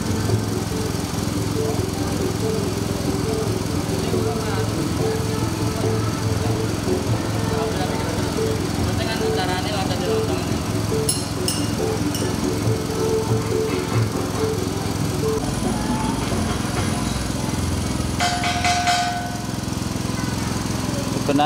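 A lontong cracker dough extruder machine runs steadily with a loud, continuous motorized drone and rattle, close by and unbroken throughout, with faint voices under it.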